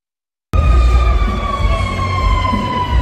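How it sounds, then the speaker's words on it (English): Loud wailing police and emergency sirens on Beale Street in downtown Memphis start abruptly after a brief silence and hold steady, layered tones close by with low rumbling traffic underneath. "The piercing sound of sirens"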